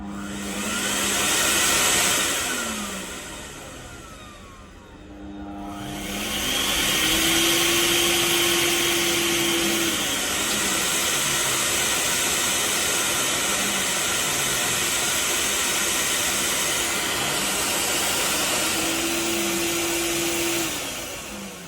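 A Record Power CamVac dust extractor on a soft start switches on, its motor whine ramping up gradually into a steady loud roar, with a brief dip partway before it settles into a continuous drone.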